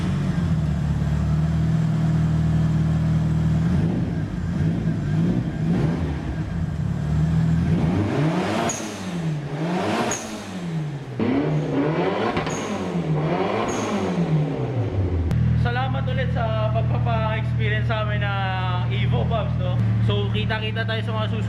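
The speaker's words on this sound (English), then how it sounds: "check natin yung makina, ano ba tunog pag nasa hood tayo." Engine of a Mitsubishi Lancer Evo 6.5 Tommi Makinen heard at the open hood, idling loudly and close with several rising-and-falling revs, then voices talk over the steady engine near the end.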